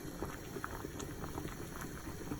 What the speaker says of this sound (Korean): 물이 끓기 시작하면 만들어 놓은 양념장을 넣고 팔팔 끓여주세요